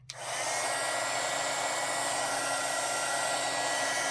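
An embossing heat gun blowing hot air, a loud steady whooshing roar that switches on abruptly and holds constant, with no talking.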